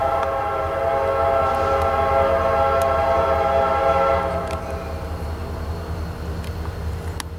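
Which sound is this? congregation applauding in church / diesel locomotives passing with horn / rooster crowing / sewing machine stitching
diesel locomotives passing with horn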